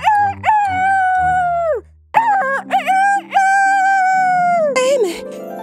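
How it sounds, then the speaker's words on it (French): A rooster crows loudly and up close in a French Brothers Grimm fairy tale, several drawn-out cock-a-doodle-doo calls in a row with a short pause between them, ending in a squawk. "un coq sauta sur sa tête et se mit à chanter"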